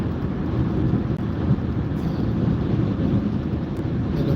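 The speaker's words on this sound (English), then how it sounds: "And the wind is blowing south by southwest." Wind gusting across an open setting, heard as a steady, rumbling roar of buffeting against the microphone with no talk.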